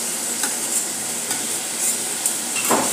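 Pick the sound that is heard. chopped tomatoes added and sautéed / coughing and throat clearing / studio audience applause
chopped tomatoes added and sautéed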